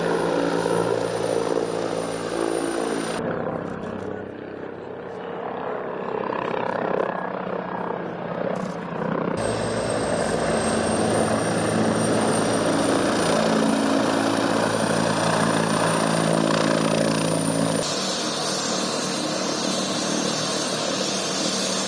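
A T-129 attack helicopter's rotor and engine drone steadily and loudly up close, with a high turbine whine that cuts in and out.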